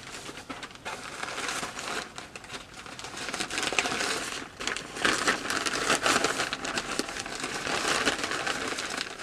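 A plastic zip bag package holding a hair wig being opened up close, with crinkling, rustling plastic in irregular bursts throughout, fairly quiet, with no talking.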